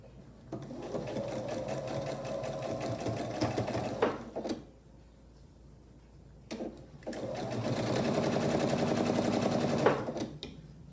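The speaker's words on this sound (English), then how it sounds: "And then I'll take it to the machine and I'll sew, again, a scant 1/4 inch seam allowance right along here." Sewing machine stitching a quarter-inch seam on a quilt block, fast steady whirring runs close up, pausing briefly with a few clicks before a second long run.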